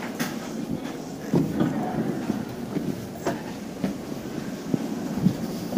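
A Hankyu train rumbles steadily into a depot with rhythmic clicks of wheels over rail joints and occasional sharp knocks, heard from inside a carriage, with Japanese announcements.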